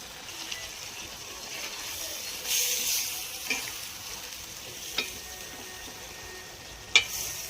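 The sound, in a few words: roasted prawns being stirred and frying in a pan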